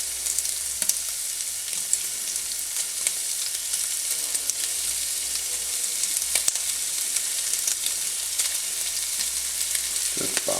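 Ground meat for chili sizzles loudly and steadily in a pan, with frequent scraping taps as it is broken up and stirred, no talking over it.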